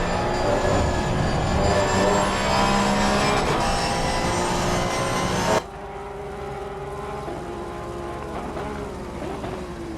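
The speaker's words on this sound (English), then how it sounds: "Just listen to the screaming flat six. You can hear the whine, the straight gears in the gearbox." Porsche Sprint Cup race car with a flat-six engine screaming at high revs at Spa, straight-cut gearbox whine on top, loud and sustained until the sound abruptly drops to a quieter, more distant drone.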